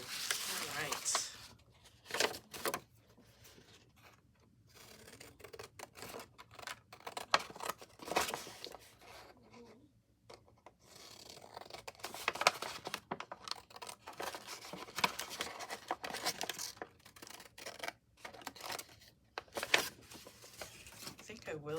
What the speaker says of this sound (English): I think this is dry enough to cut around to start working on it